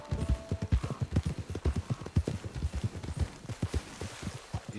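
Steady, rhythmic clip-clop of horse hooves in a PlayStation 5 video game, close and continuous at a walking-to-trotting pace throughout, with no talk.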